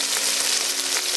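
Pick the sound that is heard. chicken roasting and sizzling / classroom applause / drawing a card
chicken roasting and sizzling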